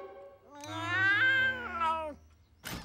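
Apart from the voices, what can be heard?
cat meowing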